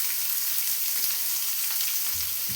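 Onion frying in a pan with mustard seeds, cumin and urad dal, a continuous loud sizzle up close with a brief stir near the end, no voices.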